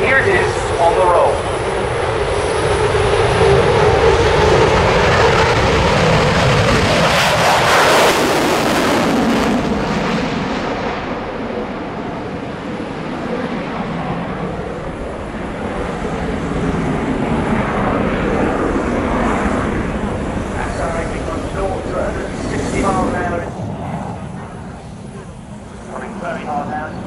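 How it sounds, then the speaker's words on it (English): A Eurofighter Typhoon jet of an operational RAF squadron roars loudly down the runway on its take-off roll at the RIAT airshow, rising to a sweeping peak then settling into a sustained rumble, with a commentator's voice over it. "now it's a fully fledged operational Eurofighter Typhoon Squadron at RAF Lucas in Scotland, and here it is on the roll"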